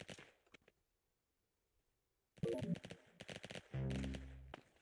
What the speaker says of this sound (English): I need to shoot him for that.